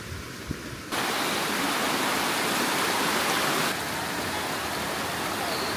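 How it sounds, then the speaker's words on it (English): Waterfall in the cool mountains near Almaty, a broad, roaring rush of falling water that swells in abruptly after a quieter moment and stays loud and continuous, easing slightly toward the end, no talking. "I mean, yeah, it's a waterfall"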